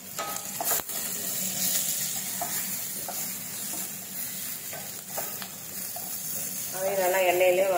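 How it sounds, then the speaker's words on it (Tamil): Sorrel leaves and chillies fry in hot oil in a pan, giving a steady close sizzle with intermittent scraping stirs that grow louder near the end. "நல்லா எண்ணெயிலே வணக்கிட்டு கொஞ்சம் உப்பு சேர்த்துக்கலாம்."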